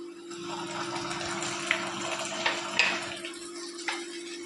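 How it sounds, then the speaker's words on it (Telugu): Ginger garlic paste frying with onions in a pan for a chicken curry gives a faint, low sizzle under a steady background hum. A few soft clinks of stirring break through now and then. "అల్లము తెల్లవాయ పేస్ట్ కూడా బాగా ఎర్రగా అయ్యేంత వరకు వేయించుకోవాలి."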